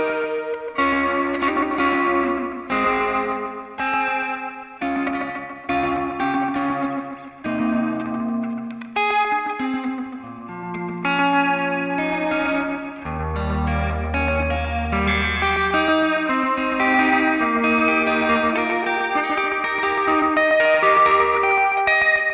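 Guitar played through a Sonicake Pocket Master effects pedal on a lo-fi setting, a muffled, warbling tone with chorus-like wobble and echo, choppy rhythmic strums early then sustained notes and a low held pitch, no talking.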